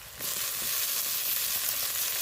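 Bay leaf and chopped onion frying in hot oil give a steady, close, even sizzle that starts abruptly and holds at full strength, with no voices.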